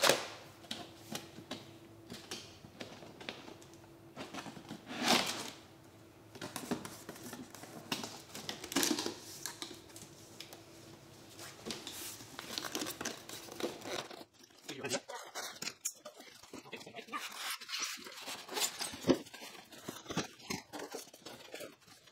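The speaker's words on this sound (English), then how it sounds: "Okay, now let's open the box." The box of a Roland GO:PIANO 61 keyboard is opened and unpacked. Cardboard and packing material crinkle, tear and rustle in uneven bursts, with a quieter, sparser stretch of handling toward the end.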